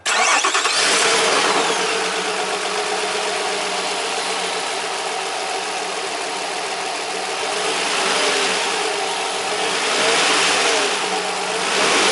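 A 2005 Nissan Murano engine cranks and catches, then settles into a steady, loud idle with slight rises in revs, running continuously with no voices.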